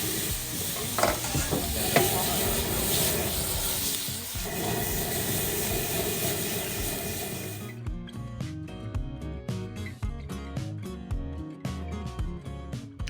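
Sliced abalone tossed in a hot pan over high heat gives a loud, steady sizzle with scraping stirs; the frying then drops back to a more broken, rhythmic clatter of tossing and pan scrapes.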